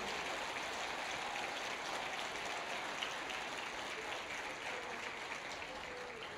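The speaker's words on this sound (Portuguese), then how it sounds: "Se é para aplaudir, aplauda direito." A church congregation applauds during a sermon, producing a continuous, even patter of many hands that sounds a little distant and holds steady without a break.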